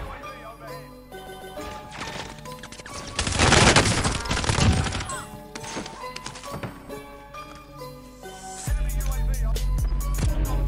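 Shotgun fire in a shooter video game, loud blasts and a dense burst of firing mixed with game music and effects, with a heavy low rumble toward the end.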